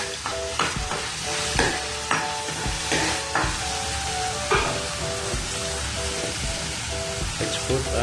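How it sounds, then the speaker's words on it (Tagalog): Chicken wings sizzling steadily in hot oil in a pan while being stirred, with repeated scraping and clinking strokes over continuous frying hiss; no talking. "Let's fry and stir until it becomes golden brown."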